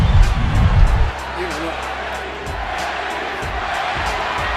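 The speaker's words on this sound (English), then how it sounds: "Pacquiao crowd chanting Manny, Manny, Manny" Boxing arena crowd chanting "Manny" for Pacquiao during his bout with Morales, a dense roar with a faint steady rhythmic pulse that continues beneath a commentator's voice.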